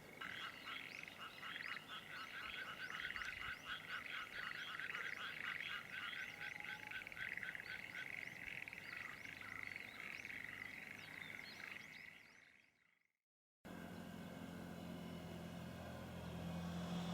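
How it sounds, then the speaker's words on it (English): Frogs croak in a dense, rhythmic chorus at a distance on a gloomy evening, a steady pulsing trill that fades out, drops to silence, then gives way to a low rumbling background. "You can just hear the frogs in the distance."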